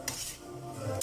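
A spoon clanks and scrapes against a pan while pork, tofu and string bean adobo is stirred, a few sharp metallic knocks at the start and end of a brief stretch of scraping.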